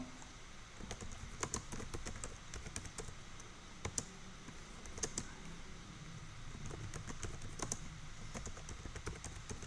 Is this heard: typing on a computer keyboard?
yes